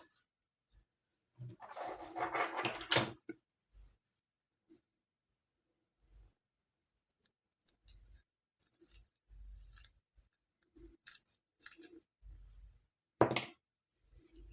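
Scissors snip thread or wire while beaded earrings are being made with vintage beads, giving a few quiet, sharp cuts separated by pauses, alongside faint handling clicks.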